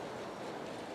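A G scale model Santa Fe train runs along its track with a steady, continuous rolling rumble and faint wheel clatter, close and moderately quiet, with no talking.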